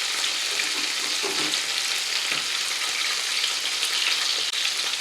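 Country fried steak sizzles in a pan with a loud, steady, broadband hiss of hot oil crackling, continuous and close throughout with no talk.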